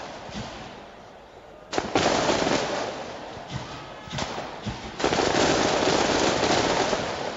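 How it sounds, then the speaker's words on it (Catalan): Fireworks and firecrackers burst after a Sabadell versus Murcia football match, a series of sharp loud cracks and booming thuds, some in quick clusters, echoing across an open stadium with faint crowd noise beneath. "estarà escoltant els petards que sonen amb estridència"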